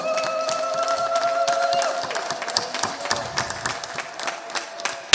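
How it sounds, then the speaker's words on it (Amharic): A church congregation claps at a sermon, a dense burst of applause that thins into scattered individual claps, with faint sustained vocal tones early on that may be ululation. "ለእግዚአብሔር ከባድ እልልታ ጭብጨባ"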